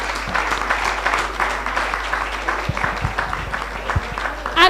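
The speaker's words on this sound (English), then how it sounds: "Please, a round of applause for Mr. Reginald AZIZA." Church hall audience at a law seminar gives a sustained round of applause, steady mid-distance clapping with a few louder nearby claps and a low hum underneath.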